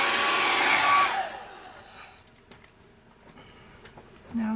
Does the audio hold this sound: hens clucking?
no